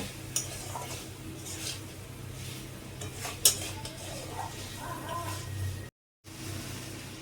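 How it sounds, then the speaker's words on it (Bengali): Fried mushrooms stirred and sautéed with spices in a pan for a cauliflower mushroom curry, with soft scraping and clinks of utensil against metal over a low steady kitchen hum, a brief sharp clank partway through. "মাশরুমটা দিয়ে আমি আর একটু ভালো করে কষিয়ে নেব"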